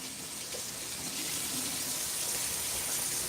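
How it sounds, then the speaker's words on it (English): Portobello mushrooms rinsed under a running kitchen tap, a steady close hiss of flowing water splashing into the sink throughout, with no talking. "These big portobello mushrooms. I'm going to wash these things."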